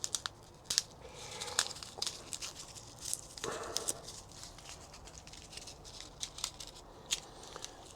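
Scissors cut open a packet of Brussels sprout seeds in a greenhouse, with close, quiet snips and papery crinkles and rustles in an irregular patter, heard alone without any talking.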